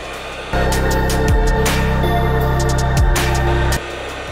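A hot air rework station blows on a Nintendo Wii Remote circuit board, a steady loud rushing hiss that starts abruptly, holds for about three seconds with slight pitch shifts, then cuts off.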